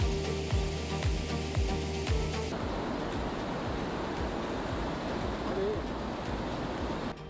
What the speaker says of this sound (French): Regardez cet enchaînement de cascades.